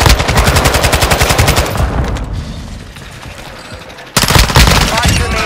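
Sustained automatic gunfire in Call of Duty: Modern Warfare II, loud and close, with a rapid rattling burst that thins out mid-way, then a second fierce burst kicks in near the end.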